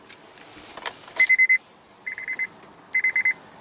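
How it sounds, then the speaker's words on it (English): A 2015 Honda Pilot sounds its cabin warning chime in three short bursts of rapid electronic pips, fairly clear against faint background rustle, with no talking. "And you still have that old Honda chime."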